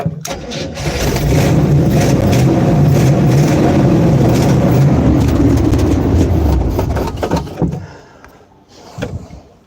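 A cold engine cranks over on a low battery and catches, running loud and steady for several seconds before the sound drops away near the end.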